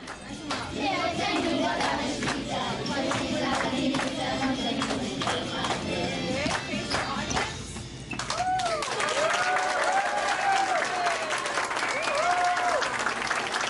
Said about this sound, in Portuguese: Os adultos aplaudiram.